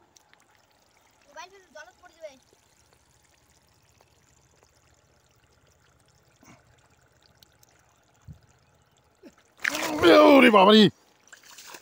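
A snakehead fish thrashes in shallow muddy water, giving one loud, close burst of splashing that lasts about a second. Before it there is a long quiet stretch with a few short voices.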